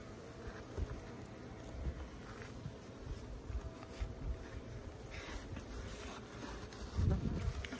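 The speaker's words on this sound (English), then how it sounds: "I hear a bee in my ear." Honeybee buzzing close to the ear during hive winterizing in Canada, a faint, wavering insect drone over wind noise and outdoor ambience, with a brief louder rumble near the end.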